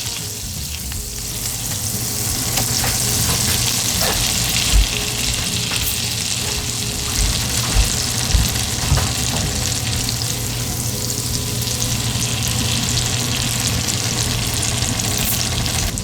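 Shrimp frying in good-quality butter in a pan, a loud sustained sizzle close by with scattered clinks and scrapes of a utensil moving the shrimp, no one speaking.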